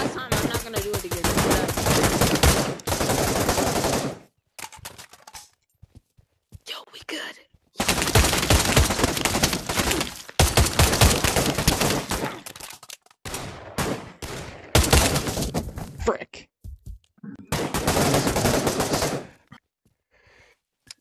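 Bursts of AK rifle fire in the VR shooter Pavlov, loud and close, coming as long rapid automatic strings broken by short pauses across the whole span.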